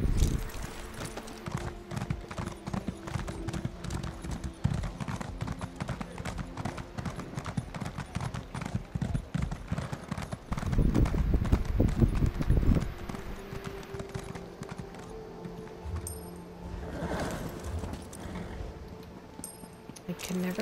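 Hooves clip-clop steadily on a ridden horse moving through a town in a video game, a continuous rhythmic trot with a louder burst midway, while a person talks over it.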